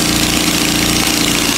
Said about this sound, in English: I used the commercial engine to blend the soya beans and the date mixed together.